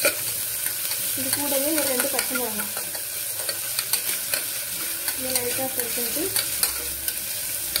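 Ginger lightly frying in a pan for vegetable pulao sizzles steadily while a spoon stirs and scrapes in repeated strokes, close and clear, with a voice speaking briefly over it.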